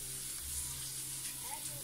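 Small anchovies skewered on toothpicks and dusted in flour fry in a pan of oil in a home kitchen, giving a steady, soft sizzling hiss with a faint low hum underneath.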